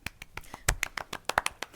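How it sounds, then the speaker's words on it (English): A short burst of light hand clapping by a few people: quick, uneven, close claps lasting under two seconds, with no speech. "Little clap."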